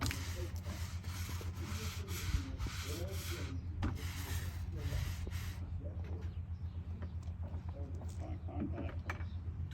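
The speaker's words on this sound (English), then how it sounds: "use your nylon brush" Nylon brush scrubbing a vertical wooden deck surface during an outdoor restoration demonstration at a farm festival, a steady repeated rubbing scrape in short strokes, close, with faint birdsong and background murmur.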